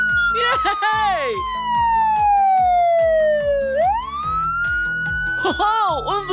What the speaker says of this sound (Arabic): فيها صفارة إنذار